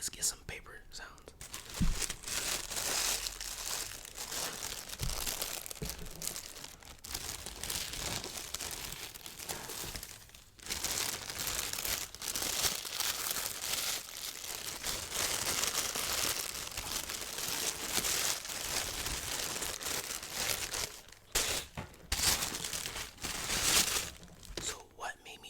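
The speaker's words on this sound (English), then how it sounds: "actually, let's get some paper sounds" Paper crinkling in the box of a Jordan 5 Tokyo sneaker unboxing. Close, continuous rustling and crunching runs for about 25 seconds with brief pauses, and soft whispered talk sits underneath.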